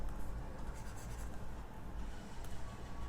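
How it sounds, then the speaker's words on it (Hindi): A writing tool scratches across a board during a classroom tax lecture, giving a continuous close scraping texture over a low room hum, with no speech. "मैं इसको अच्छे से लिखता हूँ"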